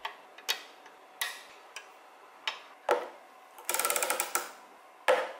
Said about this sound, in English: we'll build a simple ratchet